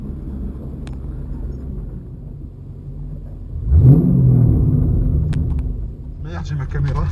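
An American car pulls away at a paddock and track event at Lurcy-Lévis, its engine idling low before swelling into a deeper rumbling acceleration midway, with people talking nearby.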